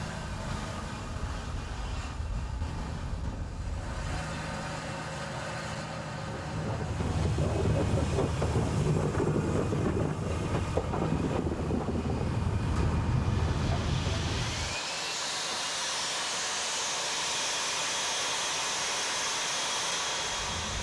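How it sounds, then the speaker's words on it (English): A steam locomotive idles at a station in Zimbabwe, warming up, with a constant low rumble and hiss, growing heavier midway before the deep rumble drops away, leaving a steady high hiss. "a steam locomotive is at the station warming up"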